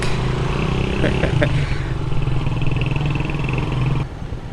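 Motorcycle riding along a muddy rural road in Sabang, Vinzons, Camarines Norte, its engine droning steadily close by with some clattering, then dropping off near the end.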